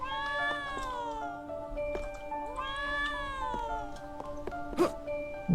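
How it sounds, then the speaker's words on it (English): Two cats meow in the video game Trials of Mana, their drawn-out wavering cries alternating at a moderate level, with a brief clatter near the end. "No, it's two cats."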